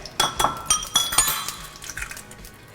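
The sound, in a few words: cracking eggs into a pan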